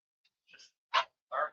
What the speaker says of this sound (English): What was he barking at?